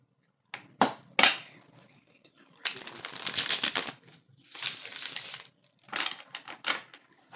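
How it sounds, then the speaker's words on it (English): Tarot deck being shuffled by hand, crisp papery riffling bursts coming in several uneven clusters with short pauses between, close and fairly loud with no talking. "One more shuffle."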